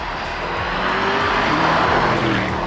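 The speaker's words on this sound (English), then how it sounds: "This is a soulful sounding engine. It rumbles, it's got the right amount of roar." Mercedes-AMG SL 55 engine roaring loudly and steadily as it accelerates, a dense, continuous rumble close by that swells slightly, with no talking.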